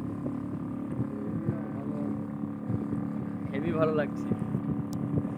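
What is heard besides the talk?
boat moving fast on Kalyani lake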